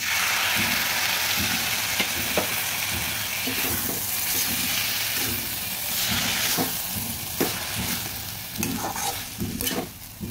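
Nut paste frying in a pan with banana stem, stirred continuously, giving a steady close sizzle with scraping stir strokes throughout and no voices.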